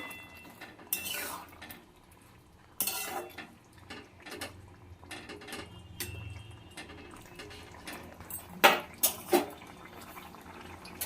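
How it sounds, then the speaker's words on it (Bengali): A spoon stirring soaked bata fish into curry gravy in a pan, with scattered clinks and wet scraping, a few sharper metallic knocks near the end, and faint speech in the background. "বাটা মাছটাকে এবার ঝোলের সঙ্গে ভালো করে মিশিয়ে নেব"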